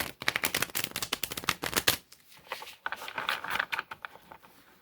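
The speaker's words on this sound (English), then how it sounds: "And these shuffle better too than the other ones." Tarot cards being shuffled by hand, rapid crisp riffling bursts with a short pause in the middle before another flurry of flicking card edges, close and fairly quiet.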